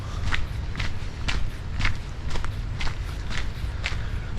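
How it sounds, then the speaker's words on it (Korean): Footsteps walking on a soil and gravel path under trees, a steady close crunch of about nine evenly spaced steps with no talking. "이 흙과 자갈을 밟는 발소리"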